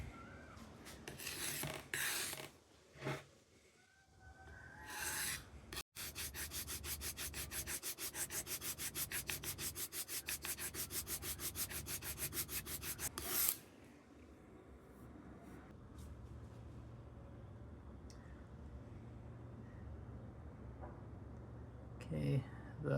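A broken knife edge and point being reground by hand on a sharpening stone: a long run of fast, even rasping strokes, close and clear, with scattered scraping and handling noises before and after.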